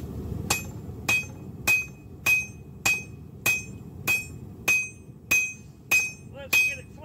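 A hammer strikes a hot metal scroll for an oak table about a dozen times in steady, evenly spaced, ringing blows, loud and close.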